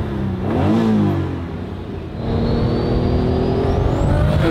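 A Porsche accelerating as its turbo spools, with a loud, close engine roar that rises in pitch, eases off briefly, then climbs again with a thin whine building over it.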